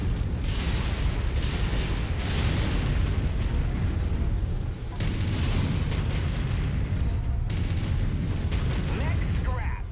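Incoming missiles pound a battlemech in MechWarrior 5: Mercenaries, producing heavy, sustained booming blasts and mechanical rumble in repeated surges, loud and close throughout.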